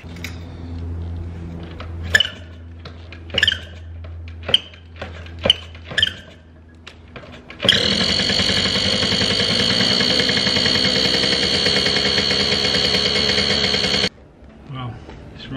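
A narrowboat engine is cranked with several sharp knocks and clunks, then catches and runs loudly for about six seconds with a harsh, uneven tone before cutting out, followed by faint handling noise.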